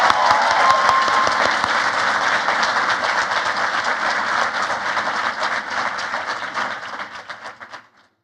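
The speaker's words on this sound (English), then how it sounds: "please give a round of applause for the 2024 class of BSN graduates" Loud sustained crowd applause from an audience honoring a graduating class of 2024 nursing (BSN) students at a university ceremony, dense clapping filling the hall for about seven seconds before tapering off.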